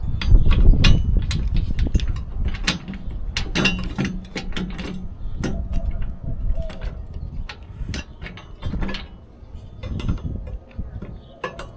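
Bolts being tightened into the rail of a Front Runner Slim roof rack in a garage, first by hand and then with a driver, giving scattered metallic clicks, ratcheting ticks and knocks at close range with a faint voice now and then.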